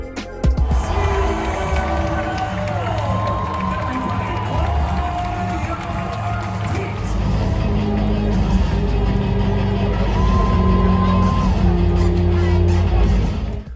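Hockey crowd at a Seattle Kraken game in Climate Pledge Arena, a loud, sustained roar of cheering and shouting that fills the arena, with raised voices and whistles throughout.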